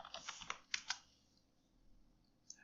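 Quick bursts of typing on a computer keyboard entering a search term, a few clustered keystroke clicks near the start, then quiet with one last faint tap.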